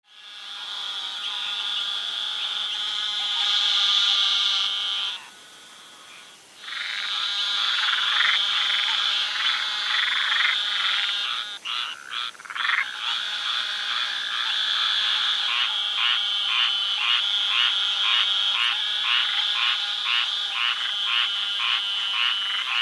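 Dense chorus of frogs croaking at night in South Florida, a steady high-pitched trilling and pulsing call that runs continuously, briefly dropping out once before resuming with rapid rhythmic pulses, close and loud with no talk.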